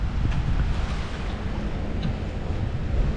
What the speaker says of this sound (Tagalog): Hangin guys, hangin.